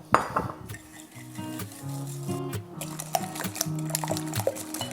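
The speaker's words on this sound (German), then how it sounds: "Nun gebe ich jetzt die Eier in eine Extraschüssel hinein, den Zucker und werde das Ganze kurz verquirlen." Eggs and sugar are whisked in a separate bowl, giving irregular clinks and light taps of a utensil against the bowl with soft liquid sloshing, fairly quiet under a faint tonal background.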